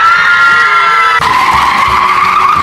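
Animated bus skidding in a cartoon story, a loud, sustained tire screech that shifts pitch sharply partway through and then continues as a strained squeal, close and dominant.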